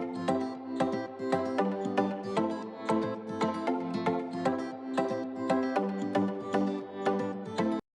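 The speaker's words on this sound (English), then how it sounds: "I added a picked guitar and some Pluck chords." Picked guitar and plucked synth chords layered in a tropical house production, a steady bright rhythmic pattern of short plucked notes over warm sustained harmony, loud and continuous with no voices.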